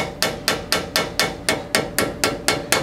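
Hammer lightly tapping an axle seal into place during rear brake repair on a Chevrolet C10 truck, about eleven sharp, evenly spaced metallic taps, close and alone.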